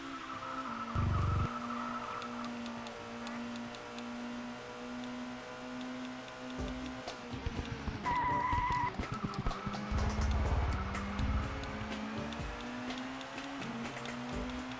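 Stock cars in the racing video game Jarrett & Labonte Stock Car Racing drone steadily in the distance, with a burst of tire squeal and skidding midway before the engines carry on.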